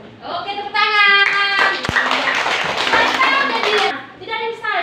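Students in an Indonesian classroom lesson clap their hands together in a dense burst lasting a couple of seconds, with children's voices chattering over it before and after.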